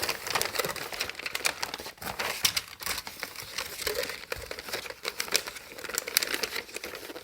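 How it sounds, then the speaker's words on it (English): Paper crinkles and rustles in irregular bursts as sheets are wrapped around a Nerf gun to make a holster, close and moderately loud, with no speech. "start off by wrapping your Nerf gun in with the paper"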